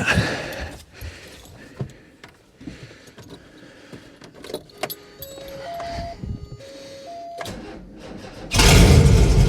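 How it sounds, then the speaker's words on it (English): A 1988 car with its muffler cut off and no exhaust starts with a clatter of keys and cranking, several beeping chimes sound, then the engine roars loudly and raw at the end. "Let's see how she runs with no exhaust. It's going to be loud."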